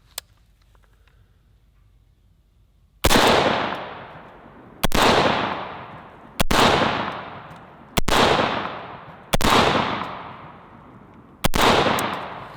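Six loud, sharp rifle shots fired at small mini pumpkin targets roughly 40 to 50 yards away, spaced unevenly about one to two seconds apart, each with a long decaying echo tail, after a quiet stretch.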